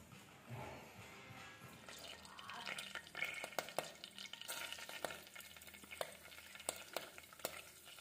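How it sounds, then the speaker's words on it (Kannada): Mustard seeds and curry leaves temper in hot oil with a faint, soft sizzle broken by scattered sharp pops and crackles, recorded quietly and close up. "ಒಗ್ಗರಣೆ ಹಾಕಿದ್ದೀನಿ. ಎಣ್ಣೆ, ಸಾಸಿವೆ, ಹಾಗೆ ಕರಿಬೇವು"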